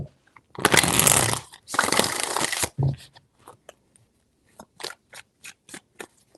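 Tarot cards being shuffled by hand: two long riffling bursts, then a string of short, crisp card taps and flicks up close, with no other sound around them.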